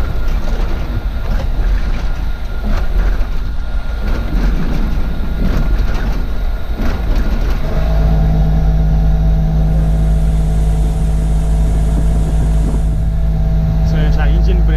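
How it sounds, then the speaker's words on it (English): Freightliner truck with a 15-speed manual transmission, its engine brake engaging as a loud, steady droning rumble with a sustained low tone that takes over midway, close and continuous, with speech partly heard in the first half. "so it's an engine brake"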